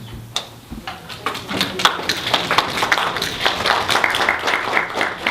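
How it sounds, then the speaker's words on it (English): Audience applause at a college information session, a dense patter of many hands clapping that builds after a few scattered claps and holds steady, fairly close and loud. "No need to applause each time."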